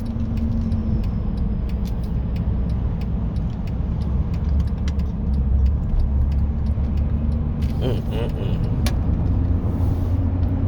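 Road traffic rumbling steadily nearby, a constant low roar of cars and engines with a brief brighter passing rattle near the end, no talk over it.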